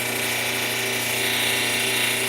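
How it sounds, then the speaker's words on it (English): A lapidary polishing wheel at 660 grit runs steadily while pre-polishing a thunderegg core cabochon, giving a constant loud whirring hum with a gritty hiss and no voices. "This particular wheel, now I'm on just a 660 grit. Call it maybe a pre-polish."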